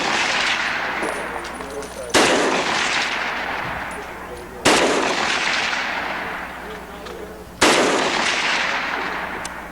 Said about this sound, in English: That's the STG 44. MP 44. I'm going to shoot it semi-automatic.